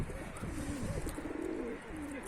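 Pigeons coo nearby in soft, throaty, warbling calls that rise and fall over a few seconds, with light background noise.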